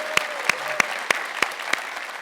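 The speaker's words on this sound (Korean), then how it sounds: "200일 축하 박수 한번 다시 치고 시작할까요?" An audience at a televised New Year town-hall event with the mayor claps in unison to celebrate the mayor's 200 days in office, six sharp, evenly spaced claps in a steady rhythm.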